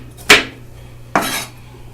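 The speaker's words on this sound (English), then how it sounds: "So I'm just chopping up the green pepper right quick." A knife chops green pepper on a cutting board with two sharp, close knocks about a second apart, each a crisp impact that quickly fades, with quiet between them.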